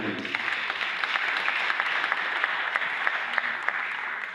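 A crowd of young people applauding and cheering in a large gathering, a dense, steady roar of clapping that holds evenly for several seconds, with no one talking over it.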